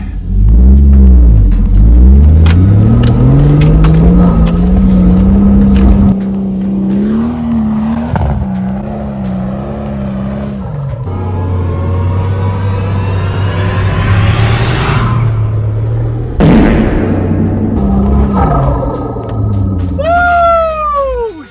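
A heavy Toyota 80 Series Land Cruiser weighing about three tonnes labours up a very soft sand hill, its engine loud and close, revving hard and rising and falling as it bogs down and regains grip.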